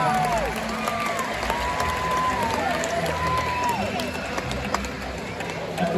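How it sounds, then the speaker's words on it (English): An audience at a SeaWorld San Antonio killer whale show applauds volunteers, with steady crowd clapping and cheering throughout. Whistle-like calls sound over the noise, and the clapping stays loud and continuous. "let's give both our volunteers a round of applause."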